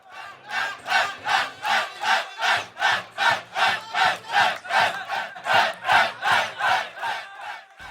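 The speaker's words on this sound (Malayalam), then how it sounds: "കാണികൾ ആരവത്തിലായി" Spectators at a football club match in a Riyadh stadium roar as a massed crowd, the loud, sustained noise swelling in a steady rhythmic pulse of about two surges per second, with no talk over it.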